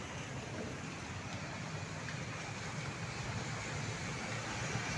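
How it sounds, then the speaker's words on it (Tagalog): Dense, steady hiss of heavy rain falling, a constant wash of noise at moderate distance with no voices. "bumubuhos po ang ulan dito"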